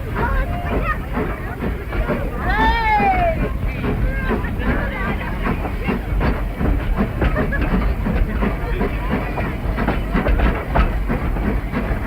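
The Isle of Man Railway Centenary Special train pulling away from a platform, wheels clattering and rumbling amid a loud crowd babble, with a whistle-like squeal rising briefly early on.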